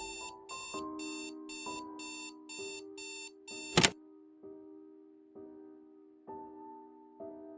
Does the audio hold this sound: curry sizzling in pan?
no